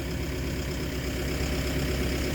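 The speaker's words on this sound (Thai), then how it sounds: "ทั้งขับรถไถทั้งขับรถแมคโคร" Diesel engine of a tractor or backhoe running steadily, a dense low rumble with a faint knocking pulse, close and constant throughout, with no talk over it.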